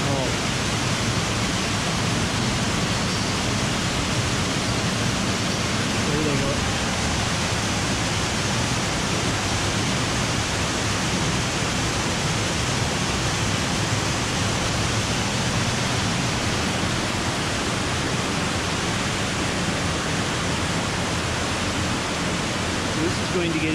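Roar of a waterfall inside the Cueva de los Aviones cave near San Vicente de Chucurí, Santander, Colombia, a dense, constant broadband rush that stays loud and unchanging throughout.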